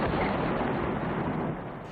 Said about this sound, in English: what seemed to be explosions in the distance